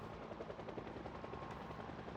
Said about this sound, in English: this helicopter is going to follow us around and draw zombies towards us